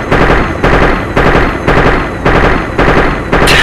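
Loud, close bursts of automatic machine-gun fire from Arma 2 repeat in a rapid, even rhythm of about six short volleys, alone without voices.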